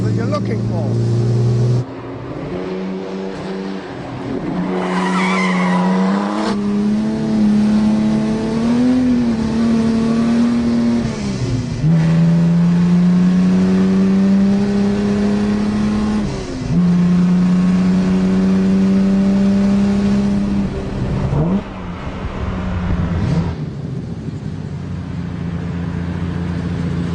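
A Jaguar race car engine fed by Weber carburetors, loud and close, revving up hard through repeated gear changes with a brief lift and a rising roar that sustains to the end.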